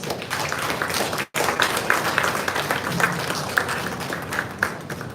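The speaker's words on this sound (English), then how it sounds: "Let us welcome all the distinguished dignitaries with a warm round of applause." Dense, even applause from an audience welcoming dignitaries onto a stage at a formal event, with a brief gap near the start before the clapping carries on steadily.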